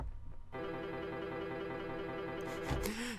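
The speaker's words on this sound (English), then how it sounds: "a 30-second note triplet sounds like this" An MPK Mini mk2 fires note repeat at 32nd-note triplets, producing a rapid, buzzy stream of the same tone that runs steadily for about two seconds before a couple of brighter hits near the end.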